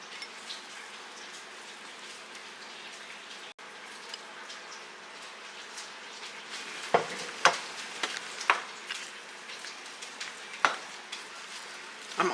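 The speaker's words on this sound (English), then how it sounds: "Now I'm going to mix in the meat" Meat gets stirred into pasta for a cheesy stromboli bake, with soft wet scraping and squelching of a spoon working through a bowl, steady at first and then breaking into uneven clacks and thumps, close and alone.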